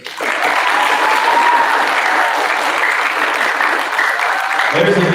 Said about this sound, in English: There's a big cheer.